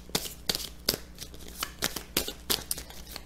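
Tarot cards are shuffled and slapped down during a reading, a close run of crisp, papery riffles and flicks in quick irregular bursts, with no talking.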